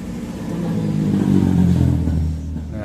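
Yamaha Mio M3 125 automatic scooter engine with a new cylinder block revs up briefly from a close idle, rising to a raspy peak mid-clip before easing back down, with a faint rattling clatter under the engine note.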